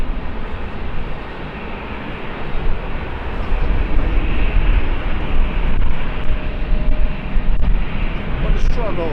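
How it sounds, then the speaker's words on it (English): A Lufthansa Airbus A320 jet at Schiphol Airport in fog gives a continuous loud engine roar that swells slightly midway and holds steady throughout. "In the background we have the Lufthansa A320."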